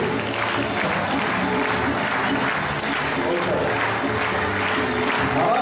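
An audience claps steadily and densely throughout at a dance ensemble's concert, sustained applause filling the hall with scattered crowd voices mixed in.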